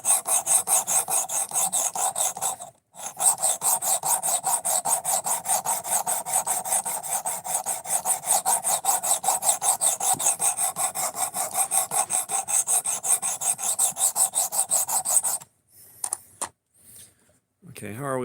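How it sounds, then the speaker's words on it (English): A knife is drawn across a 220 grit stone on a guided sharpening system: close, steady rasping strokes in a fast regular rhythm, broken by one brief pause and ending in a few scattered scrapes and a short voice. "this sharpening system starts out at 220 grit and goes up to 800"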